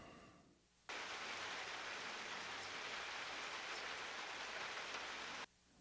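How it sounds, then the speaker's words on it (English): Steady rain hisses evenly for several seconds, starting and stopping abruptly, with no other sounds. "So let me play the rain sound."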